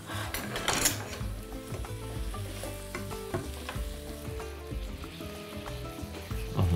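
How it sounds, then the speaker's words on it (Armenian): Coconut flakes with about two tablespoons of sugar fry and caramelize in a pan, a steady close sizzle broken by frequent stirring scrapes and clinks, with no voices. "Թող տապակվի, կարամելացվի"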